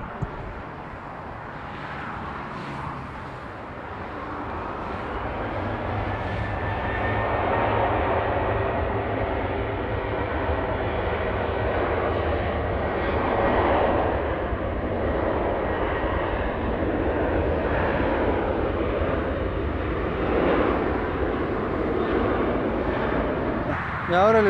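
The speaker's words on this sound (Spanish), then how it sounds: "Ahí le pongo el sonido del avión para que puedan apreciar los motores." Airplane engines recorded on a Samsung Galaxy S7 Edge phone, a continuous distant jet roar that swells gradually and holds steady, with a faint tonal whine running through it.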